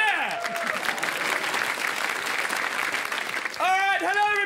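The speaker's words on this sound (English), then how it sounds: "Give me a big cheer." A studio audience at a comedy show applauds and cheers loudly in a dense, continuous wash of clapping, with a voice speaking over the crowd at the end.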